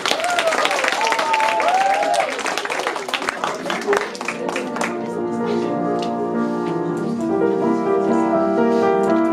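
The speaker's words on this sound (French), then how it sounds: "Applaudissements, s'il vous plaît." A crowd at a school slam poetry performance applauding and cheering as a voice speaks over it, then the clapping fades as sustained piano and voice music begins.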